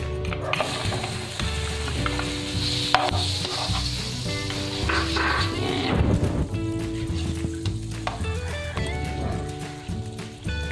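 Butter sizzling in a pan for shrimp in tomato sauce, a steady frying crackle throughout with some clatter and tonal background sounds layered over it.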